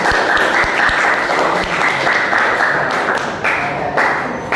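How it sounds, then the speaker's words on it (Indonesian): A classroom audience claps for group 4 after its presentation, a loud, sustained wash of many hands clapping together for several seconds. "Kita beri aplaus untuk kelompok 4."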